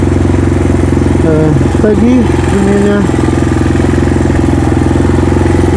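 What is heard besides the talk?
Kayo T4 pit bike engine running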